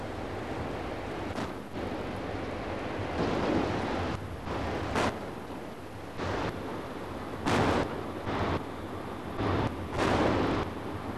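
A 4.5-inch naval gun on the Type 21 frigate HMS Ardent firing at sea, several heavy booming reports spaced a few seconds apart over a constant rumble of wind and water, heard from a distance.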